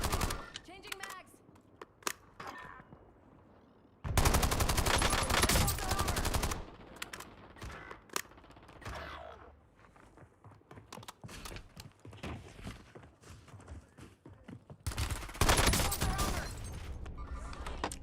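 Rapid automatic gunfire from a video game comes in loud, dense bursts, heaviest around the middle and again near the end, with scattered single shots and quieter gaps between.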